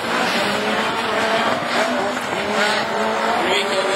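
A Honda rally car pulls away in a Division 4 rallycross race at Châteauroux, its engine loud and strained with tire squeal mixed into a dense roar of racing cars, while a commentator talks over it.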